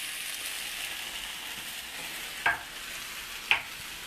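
Four eggs fry together in a hot pan, giving a steady, even sizzle with two brief, sharper crackles standing out near the end.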